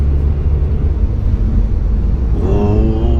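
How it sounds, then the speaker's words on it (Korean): A Hyundai NF Sonata's muffler gives a steady low exhaust drone while driving, with road rumble throughout and a brief rising tonal whine near the end. "요좀 머플러에서 조금 소리가 있어요"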